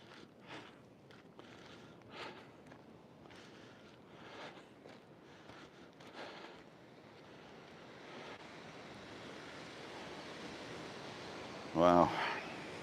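Ocean surf washes steadily at Savage Cove on La Gomera, a soft, distant roar under wind noise on the microphone, with faint footsteps and a brief louder bump near the end.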